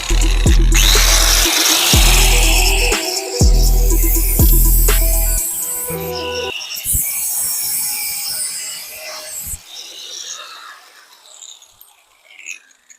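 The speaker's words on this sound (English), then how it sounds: "why are you cutting with the grinder?" Angle grinder cutting off a metal motorcycle part, a loud close whine with harsh grinding bursts that start and stop several times, then the motor spins down into quieter clatter, no talking.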